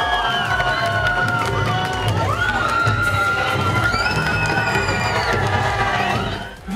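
Hundreds of fans at Survivor contestant Semih Öztürk's autograph signing in Bakırköy cheer, whoop and shout in a dense, continuous roar, with high excited voices rising over the crowd.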